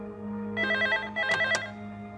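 A telephone rings with bright repeated electronic trills in short bursts, close and clear over a low steady hum, with no talking.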